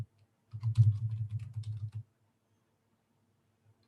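A short burst of soft, rapid keystrokes on a computer keyboard while a password is entered, lasting about one and a half seconds in a quiet room before falling silent.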